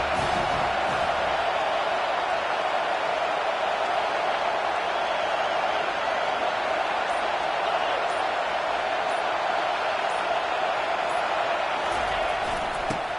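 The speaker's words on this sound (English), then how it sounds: "Decibels rising as the crowd gets behind this defense on third down" A football stadium crowd roars steadily for the defense on third down, a dense, sustained wall of noise that holds loud and unbroken throughout.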